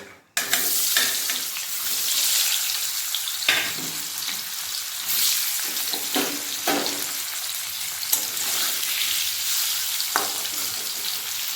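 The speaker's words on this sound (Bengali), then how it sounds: "এরপর বাকি পনিরগুলো ভেজে নেব" Paneer pieces frying in a pan for a vegetarian milk-based paneer dish, giving a steady loud sizzle with scattered crackles and a few clinks of stirring throughout, no voices.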